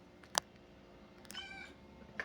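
A house cat meows twice, a sharp short cry followed by a longer, wavering meow a second later, close by over a quiet room.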